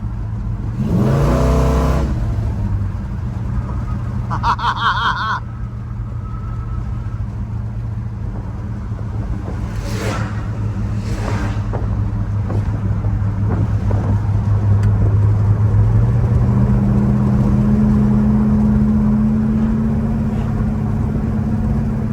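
A 1965 Ford Galaxie with a 390 FE V8 and HEI ignition cruises along the road. It gives a steady, close cabin drone. A low engine tone rises toward the end, with a few brief knocks and rattles early on.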